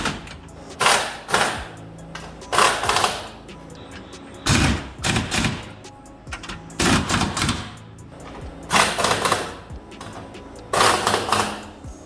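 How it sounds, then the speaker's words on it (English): Bolts tightened on aluminum running boards of a 2008-2018 Chevrolet Silverado, with repeated bursts of rapid rattling from a power impact tool separated by short pauses, loud and close. "So let's tighten up all the bolts"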